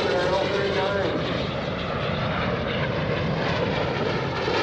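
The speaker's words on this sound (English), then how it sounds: "that L-39 is called a Roman 86. It's going into the vertical for a half of an 8." An L-39 jet climbing into the vertical for a half-eight maneuver at a naval air station airshow, a loud, steady, continuous engine roar with broadband rushing noise throughout.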